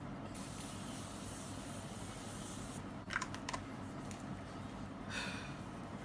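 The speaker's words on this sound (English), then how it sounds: "now I'm gonna just set everything in with my Morphe setting spray" Morphe setting spray is misted onto a made-up face in a few quick bursts, a short hiss, a pause, then a cluster of sharp spritzes, over a quiet background with no speech.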